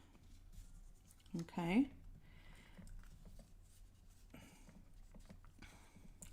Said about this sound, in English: So I'm going to score right there.